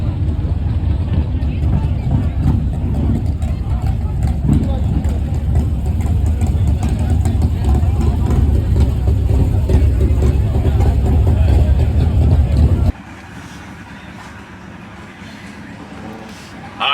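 Drag cars, a C8 Corvette and a Dodge Challenger, idle with a steady low rumble before a roll race, loud and continuous for most of the stretch, then dropping abruptly to a quieter hum; background voices mix in.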